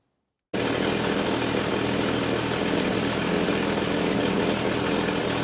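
A Holden HQ fitted with a big block engine idles steadily after a sudden start, a loud, even rumble with a low throb that holds without any talk.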